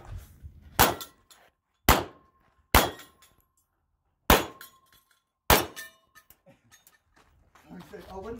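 Five sharp, loud pistol shots crack out at uneven intervals during a shooting competition, each a sudden broadband bang with a short decaying tail, separated by near silence, with faint shuffling and low voices near the end.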